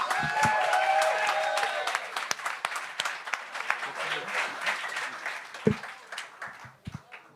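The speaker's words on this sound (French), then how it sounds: "un tonnerre d'applaudissements pour Max Richard!" A comedy show audience bursts into applause and cheering as a comedian is introduced, dense clapping at first that thins into scattered claps and fades, with talk over the later part.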